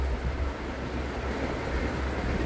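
At night, another train overtakes the Godavari Express near Yalamanchili station, a steady low rumble of passing railcars running continuously and fairly close, with no talk.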